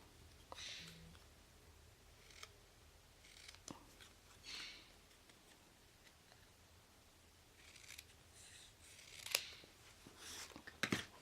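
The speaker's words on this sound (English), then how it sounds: "so I can just cut this with my scissors." Scissors snip a small piece of cardstock in a quiet crafting space, a few short, faint cuts spaced irregularly with soft rustling between them.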